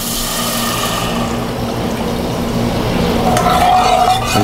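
Milk is poured into a pot while cooking a stuffed banana dish with dried meat, making a steady, loud liquid rush that stays unbroken from start to finish, close to the listener.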